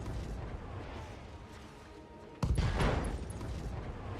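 A missile volley in the BattleTech video game lands as a sudden booming burst of explosions midway through, following a low rumbling wash, then rolling and crackling on at a steady loud level.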